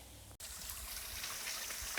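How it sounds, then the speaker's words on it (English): Water trickles steadily along a small creek beside a mountain trail on Old Speck Mountain in Maine, a continuous close-up burble and splash with a brief dropout near the start. "there's a little bit of water running down next to me."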